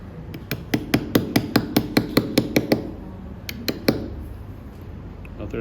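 A hammer strikes a chisel while letters are cut into stone: a quick, even series of about a dozen sharp, close taps, then a pause and a few more scattered blows, with low background noise between strikes.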